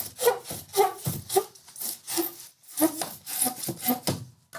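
A hand saw cuts through an insulation building product in quick back-and-forth strokes, about a dozen rasping, rhythmic pulls heard up close with no talking.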